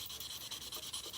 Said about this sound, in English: running your sanding block up and down